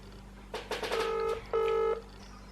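A phone emits a quick run of keypad dialing tones followed by one longer steady tone, close and clear over a low background hum.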